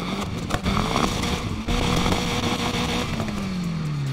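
A base-model car engine in a racing video game revs and holds a steady drone, pitch rising and then sliding lower, loud and continuous with no speech.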